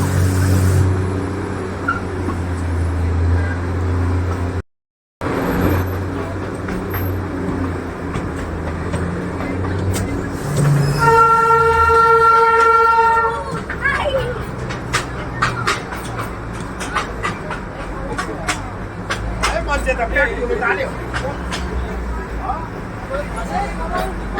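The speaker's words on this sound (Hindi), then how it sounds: "ये वाला जो सेक्शन है ये बिल्कुल मार्केट के पास से हमारी ट्रेन गुजरेगी।" The Darjeeling Himalayan Railway toy train rolls past a busy market with a continuous loud rumble and rattle. A sustained horn or whistle tone sounds midway, and clicks and clatter from the cars continue afterward.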